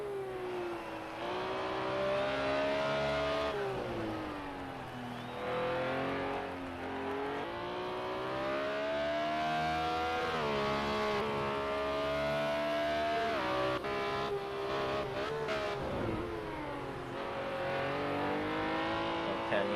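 BMW M1 Procar race car engines in Project CARS 2 at the Sakitto GP circuit, a loud continuous wail of revving that climbs and drops through gear changes, with several cars close together and no pauses.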